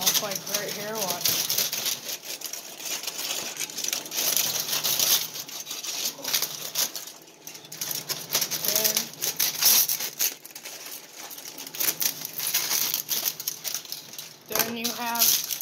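Scissors or shears cutting pieces off a mask, a string of rapid crisp snips and crinkling plastic, close and fairly loud, with a person talking intermittently over the cutting.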